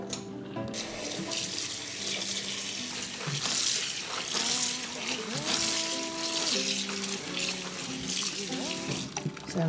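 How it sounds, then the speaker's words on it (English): Water splashes and pours steadily from a sink basin as rinse water from aster scaber greens is tipped out in a kitchen, loud and continuous over background music. "I'm going to throw away this water first."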